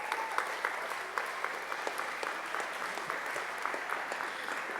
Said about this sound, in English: A round of applause one last time for Napua Okamaile Island School Halau